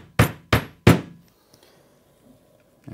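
A hammer taps wooden dowels into the end panel of a sink base unit: three sharp, close knocks about a third of a second apart, then near silence.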